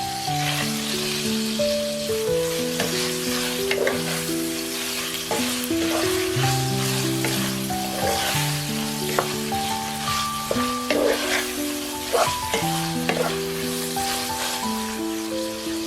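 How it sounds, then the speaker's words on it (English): Minced pork and shrimp frying in a pan for pancit miki guisado, with a steady sizzle and intermittent stirring clacks under sustained background music. "Cook until the pork is nicely browned, then add the shrimp."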